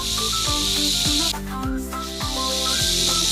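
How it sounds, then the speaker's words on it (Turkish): A snake's sustained hiss, steady and fairly loud, runs through nearly the whole stretch, dipping briefly in the middle, with no talking over it. "Yılan."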